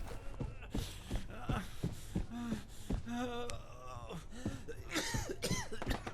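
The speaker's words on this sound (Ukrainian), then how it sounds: "Та чувак, не кашляй." Someone coughs again and again in short, harsh bursts with throat clearing and breathy gasps in between, close and fairly quiet, set in the survival horror game Level Zero: Extraction.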